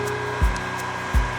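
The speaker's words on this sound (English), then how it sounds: "If you think this thing is a hairdryer on steroids, you would be correct." A powerful blower dryer, like an oversized hairdryer, running at its highest of three fan speeds gives a steady loud whooshing roar, with two brief low thumps as it is moved.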